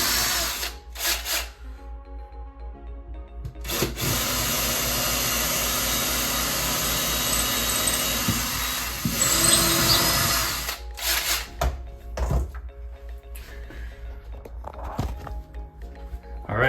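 A power drill bores holes into a wooden wall stud during a home termite treatment, with loud whirring bursts of varying length separated by short pauses and some shuffling movement in between.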